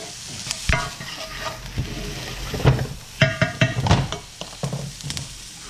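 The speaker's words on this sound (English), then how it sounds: "Give her a toss around. Stir this stuff off the sides here." Jalapeno, onions and corn sizzle in a hot pan while a utensil stirs and scrapes them around, with frequent clanks and scrapes over a continuous frying hiss.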